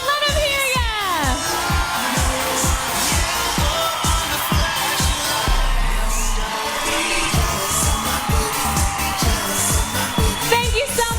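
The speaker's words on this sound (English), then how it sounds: "Come on, crowd, let them hear ya." A pageant audience cheers and whoops loudly throughout for the swimsuit semi-finalists, with continuous crowd noise under a voice over the sound system.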